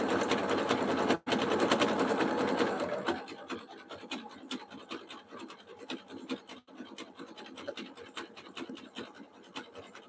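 Sewing machine stitching coiled fabric strips into a jelly roll rug, a loud steady whir that drops after a few seconds into a quieter run of rapid stitch clicks and fabric scraping.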